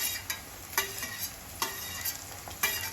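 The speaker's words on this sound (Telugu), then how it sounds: "ఆనియన్ బ్రౌన్ అయింది కదా, ఇప్పుడు పచ్చిమిర్చి యాడ్ చేస్తున్నాం." Green chillies frying in oil with browned onions for poha, with a steady sizzle and several sharp scrapes and clatters of a spoon stirring in the pan, close up, no voices.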